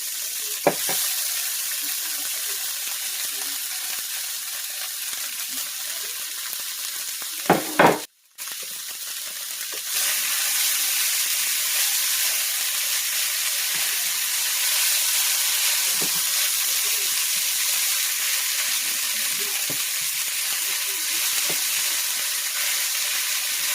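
Stuffed mushroom filling mix sizzles steadily in a hot pan, a loud continuous frying hiss with a brief clatter and pause partway through, then the sizzle resumes at full strength.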